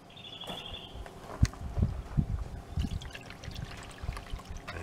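Crushed mineralized rock swirled with water in a gold pan, giving soft close sloshing and trickling with irregular splashes and small gritty knocks, fairly quiet and with no talk.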